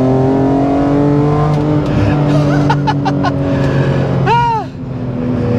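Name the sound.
BMW M3 E46 CSL accelerating out of a corner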